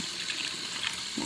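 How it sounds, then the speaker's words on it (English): Tap water runs steadily and splashes as Medela breast pump parts are rinsed in a sink, a close, continuous rushing spray that briefly changes tone near the end. "so we're gonna rinse these off"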